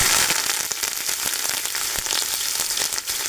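Garlic and curry leaves fry in hot oil for poha chivda, a dense continuous sizzle and crackle with sharp pops throughout, close and fairly loud, with no talking.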